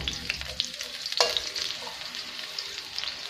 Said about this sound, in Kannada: ಈ ಗಾರ್ಲಿಕ್ ಮತ್ತು ಗ್ರೀನ್ ಚಿಲ್ಲಿಯನ್ನು ಆ್ಯಡ್ ಮಾಡ್ಕೊಳ್ತಿದ್ದೀನಿ. ಸ್ವಲ್ಪ ಫ್ರೈ ಆಗಲಿ.